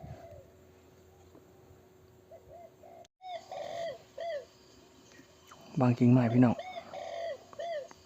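Soft, low cooing from a dove, repeated several times with brief pauses, while a person talks over part of it outdoors.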